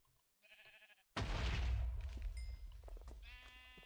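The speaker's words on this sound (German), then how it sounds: "Da ist ein Schaf, da ist noch ein Schaf." Sheep bleating in a Minecraft-style survival game, a short nasal bleat first, then a louder booming burst with further wavering bleats trailing off, close and clear.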